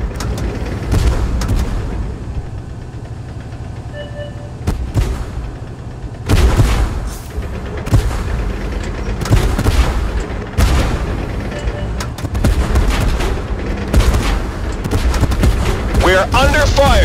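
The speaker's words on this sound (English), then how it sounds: "We're under fire." Gunfire and artillery in the tank combat video game Tank Force, loud repeated booming shots and bursts of fire throughout, with voices speaking over the battle.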